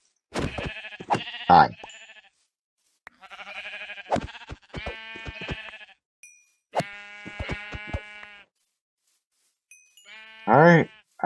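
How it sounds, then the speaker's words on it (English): Sheep bleat repeatedly in the Minecraft video game, several wavering cries spaced across the stretch with gaps between, while a person speaks briefly. "Sheep! Oh, glorious sheep."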